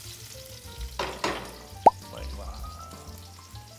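Onions are added to a hot pan for a misua and meatball dish, making a soft sizzle with a couple of utensil clatters and one sharp clink. A voice briefly exclaims.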